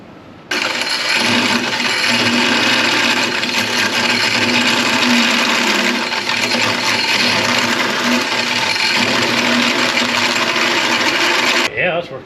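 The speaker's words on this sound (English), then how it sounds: "clean it off with something, grind it off to try and get these in" A power grinder runs continuously for about eleven seconds, grinding a lip off a track rod end on a Mitsubishi Pajero Mk2 2.8, loud, close, steady harsh whine that starts and stops abruptly.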